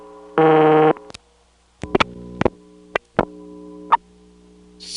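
A Bell #355 step-by-step telephone line on a long cable pair, 1977: a short buzzing tone is followed by a series of sharp clicks and brief squeaks from the range extender, with quiet hum between.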